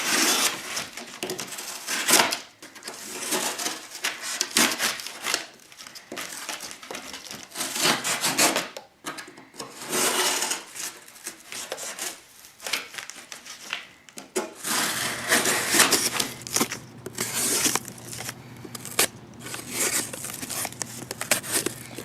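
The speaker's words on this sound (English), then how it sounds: "it just goes right through, this cardboard without any problems at all" An ESEE Zancudo knife with an AUS 8 steel, full-flat-ground blade slices through cardboard, making close, uneven scraping and tearing strokes with short pauses between cuts.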